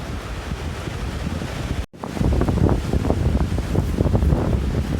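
Strong outdoor wind buffets the microphone at a bushcraft camp, a steady loud rumbling roar that cuts out for a moment and then gusts back in, with no one talking.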